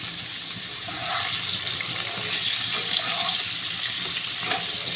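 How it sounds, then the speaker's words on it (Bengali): Potatoes and cauliflower fry in a pan of oil with a soft, steady sizzling hiss that swells slightly in places, heard fairly faint and close without anyone talking. "ওই তেলের মধ্যেই আমি আলু ফুলকপিটাকে ভেজে নিচ্ছি।"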